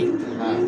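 Kaldom king-size pigeons coo in a low, steady drone held for under a second, close by and with no talk.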